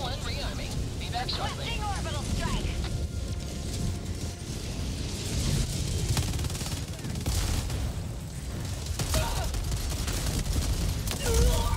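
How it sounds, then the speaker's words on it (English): Rockets and gunfire from a chaotic Helldivers 2 battle, with dense overlapping blasts, rumbling explosions and scattered shots running continuously under talk throughout. "I just saw nine rockets fly straight at me."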